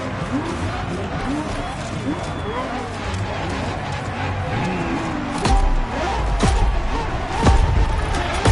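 A LaFerrari engine in a PS4 racing game roars and shifts through rising, falling pitch sweeps, loud and continuous, with crowd-like noise behind and a few sharp thumps near the end.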